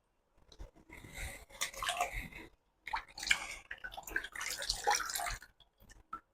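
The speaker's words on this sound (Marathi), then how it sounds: "आता आपल्याला उकळत्या पाण्यामध्ये वेफर्स टाकायचे." Potato slices for chips tipped into boiling salted water, a couple of wet splashing, clattering bursts close by with a short pause between them.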